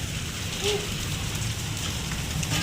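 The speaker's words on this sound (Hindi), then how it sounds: "बारिश इतनी तेज आ रही है" Heavy rain pours steadily in a dense, continuous hiss, with a faint bird-like squeak briefly rising above the downpour.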